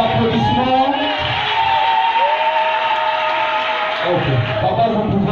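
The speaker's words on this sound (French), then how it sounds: "Sous vos applaudissements." Loud, sustained applause and cheering from a crowd at a wedding reception in a hall, a continuous wash of clapping with whoops and a voice rising over it.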